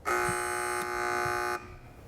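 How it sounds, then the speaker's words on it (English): A loud, harsh electronic buzzer blares continuously for about a second and a half, then cuts off abruptly. "Which buzzer is that?"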